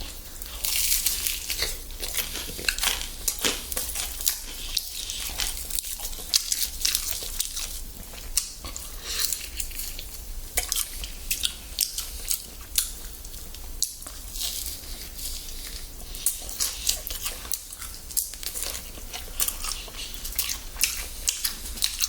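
Crispy fried chicken with a thin batter coating from a Roaspin Hot Devil chicken and Pelicana drumstick meal gets bitten and chewed close to the microphone, producing a steady run of sharp crunches and wet chewing over about twenty seconds.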